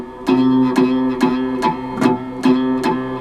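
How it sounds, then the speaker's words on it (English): An acoustic guitar string buzzes from a poorly placed fretting finger, about six plucked notes in a steady rhythm, each with a raspy buzzing ring, close and alone. "There's also a really buzzy sound you can get out of the guitar"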